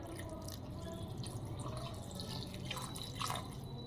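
Lukewarm water is poured into a bowl of washed tamarind, giving a faint, soft trickle and drip close by with a few slightly louder splashes toward the end.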